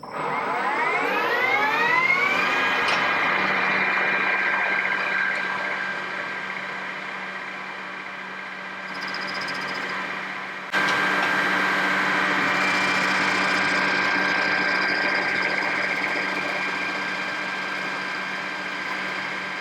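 Manual lathe cutting 410 stainless steel at 900 RPM, spinning up with a rising whine and then holding a steady high-pitched hum with a brief dip and a clunk midway, continuing alone without talk.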